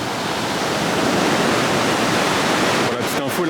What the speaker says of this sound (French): Donc on regarde les vagues.